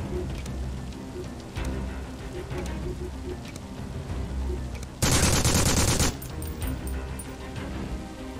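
Full-auto gunfire in Phantom Doctrine, a sudden loud one-second burst of rapid shots standing out against quieter background game sounds and light scattered clicks before and after.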